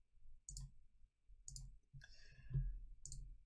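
Mouse clicks entering patterns in the Synthtribe sequencer software for a Behringer TD-3, heard as four short, crisp clicks spaced about a second apart over a low background hum, plus a brief tonal sound in between.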